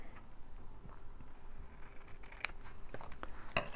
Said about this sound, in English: So I'm going to cut it really close, but I'm not going to cut it as close as it needs to be